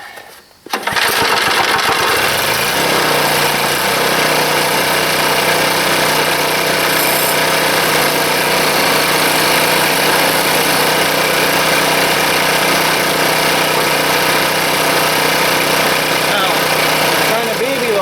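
A small gas engine on a log splitter starts with a brief rattle and then runs loud and steady at idle, a constant close-up drone throughout.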